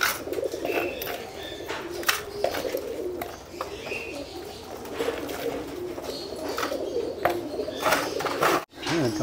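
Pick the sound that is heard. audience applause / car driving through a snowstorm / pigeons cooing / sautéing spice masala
pigeons cooing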